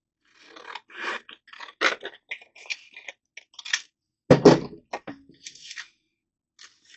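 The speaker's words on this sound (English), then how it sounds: "So I just cut it in half." Scissors snip through a vintage paper envelope sheet, cutting it in half: a series of close, crisp paper cuts and rustles of varying loudness, with no voices.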